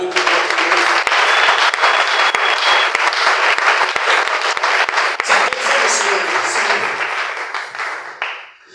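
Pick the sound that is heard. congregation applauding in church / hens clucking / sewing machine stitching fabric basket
congregation applauding in church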